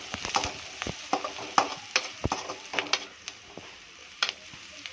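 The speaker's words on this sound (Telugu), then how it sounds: "పసుపు వేసుకొని మంచిగా మిక్స్ చేయాలండి." Semiya upma sizzles in a pan as turmeric is stirred in, a spatula scraping and clicking in quick irregular strokes over a constant frying hiss, close and moderately loud.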